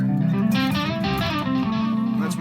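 An electric guitar plays a clean tone with the volume rolled down and delay added, a short chordal phrase ringing out with slight grit and echoing repeats, loud and close.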